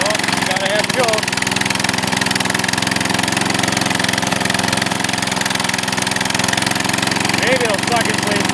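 A Dynamark lawn mower engine runs steadily with the choke on, a loud continuous mid-pitched drone with a rough idling character held for the whole stretch, close to the listener.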